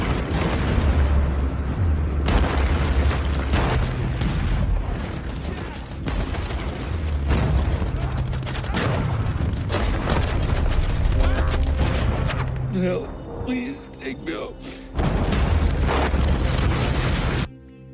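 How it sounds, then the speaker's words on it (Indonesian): An artillery barrage pounds a snowy forest: dense, rumbling booms and overlapping explosions rolling continuously, with sharp cracks and rattling gunfire mixed in, loud and close, easing briefly before a final heavy burst. "hujan tembakan artileri kembali menguncang wilayah itu"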